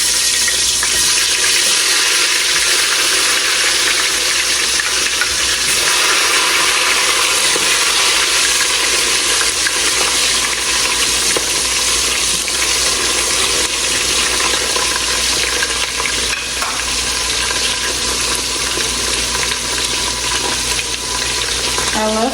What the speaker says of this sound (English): Now I will put in the onions.